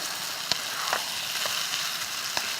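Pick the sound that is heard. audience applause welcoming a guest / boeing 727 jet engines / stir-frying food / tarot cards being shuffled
stir-frying food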